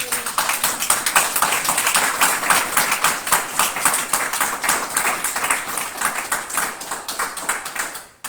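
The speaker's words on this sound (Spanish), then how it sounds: "De un aplauso, Señor Jesús." A church congregation claps steadily in brisk, even rhythm for several seconds before the applause fades out.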